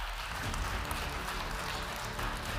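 A ballroom audience at a Poznań business awards gala breaks into dense, steady applause after a winning company is named, a continuous wash of many hands that holds evenly throughout.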